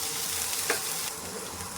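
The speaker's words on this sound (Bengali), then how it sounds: "এবারে পেঁয়াজের সাথে আলু আর গাজর একটু ভালো করে ভেজে নেব।" Potatoes and carrots frying with onions in a pan, without salt, during preparation of a poha pulao: a steady, close sizzle with a faint stirring scrape partway through and no talking.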